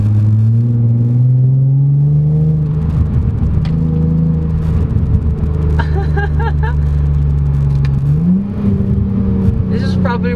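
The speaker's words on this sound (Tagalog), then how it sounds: "Oh, I love the burble of the exhaust." Hyundai Genesis Coupe with a 3.8L V6 gives a steady, deep engine and exhaust burble from inside the car, holding a low drone and rising briefly near the end, while a voice talks over it throughout.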